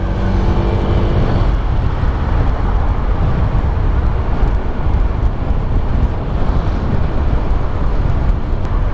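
A Honda Vario 160 scooter, a 2022 model, rides through busy road traffic with a steady roar of engine, road and wind noise that does not let up from start to end.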